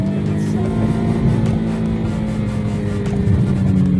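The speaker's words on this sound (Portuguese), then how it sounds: "Ele patina e patina, segura o giro, levanta o giro e vai." A Hyundai HB20S in first gear revs hard with its wheels spinning in sand, a loud, sustained engine drone that rises and wavers as the revs are held.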